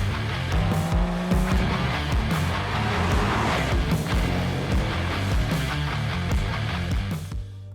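A Porsche 911 Carrera GTS (992) sports car's 3-litre turbocharged engine roars and revs continuously, with tire squeal mixed in and gear changes shifting the pitch, loud and close throughout.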